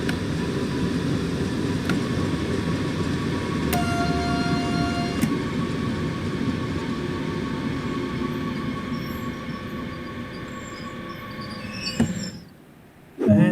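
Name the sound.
BR422 electric train running, from video game Train Sim World 2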